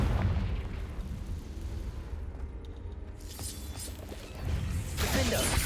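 In Hogwarts Legacy, a Confringo spell blast lands with a booming explosion amid a dark cave fight, heavy low rumble swelling toward the end with crackling debris.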